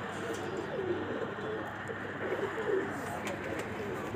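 Soft pigeon cooing on a rooftop sounds faintly through a constant outdoor background hum, with low murmuring calls repeating now and then.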